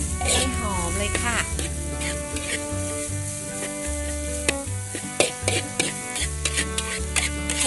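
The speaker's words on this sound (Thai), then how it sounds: "คั่วไปเลยค่ะคั่วเขาให้แห้งนะคะให้หอมเลยค่ะ" Chopped herbs dry-roasting in a tablespoon of oil in a pan while preparing sago worms, a steady sizzle with stirring scrapes, partly masked by loud background music.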